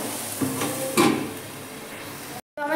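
Ghee cooking in a pan, with a soft, steady sizzle and frying crackle, a few brighter spits near the start, then a brief total cut before the sizzle resumes.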